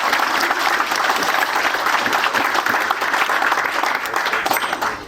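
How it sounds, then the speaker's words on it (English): An audience at a Pawnee Scouts anniversary gathering in Kearny, Nebraska claps for the event sponsors, producing steady, dense applause that stays loud and even throughout. "Yeah, round of applause for those folks."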